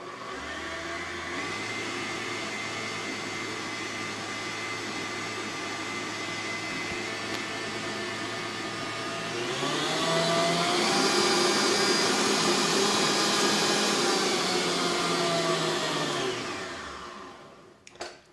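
An electric mixer whirs steadily while creaming softened butter for Nanaimo bar filling, a loud, even motor hum that rises in pitch and intensity partway through before spinning down to a stop.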